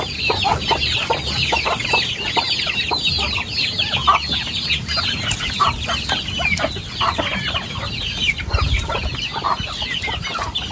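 Many egg-laying hens cluck and chatter at once in a steady, busy barnyard chorus, fairly close, with no talking.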